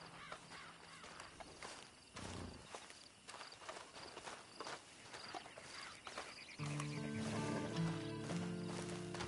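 Horse hooves clip-clopping at a walk in Red Dead Redemption, steady and moderately near, with crows cawing in the background and a swell of game music toward the end.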